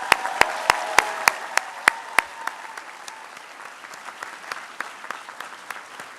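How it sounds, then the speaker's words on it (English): A graduation convocation audience claps in a room, a few loud sharp claps ringing out early, then thinning into quieter scattered applause. "you too deserve a raucous round of applause"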